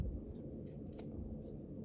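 Scissors trimming the uneven ends of a handmade DIY tassel, a few soft, close snips in a quiet room.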